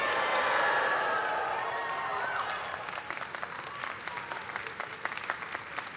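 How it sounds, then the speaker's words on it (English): A convocation audience at a fall university ceremony cheers and applauds, a loud wash of clapping and shouting voices that thins over six seconds into scattered, crisper claps. "let's hear some cheer."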